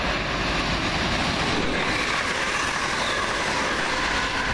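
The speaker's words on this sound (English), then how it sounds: "This is a Virgin Pendolino from Birmingham New Street to London Euston." A Virgin Pendolino train between London Euston and Birmingham New Street passes close by as a loud, steady rushing roar with rail noise throughout and no speech.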